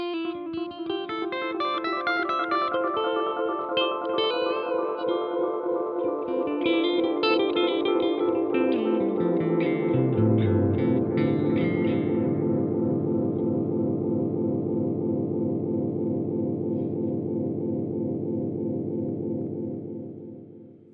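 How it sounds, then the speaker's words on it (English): Electric guitar notes smear into a thick wash of echoing repeats from a delay pedal turned all the way up, piling up, swirling and pitching downward toward feedback, building a dense sustained drone before cutting off. "We'll put it all the way up and it might start to do the typical feedback sort of thing"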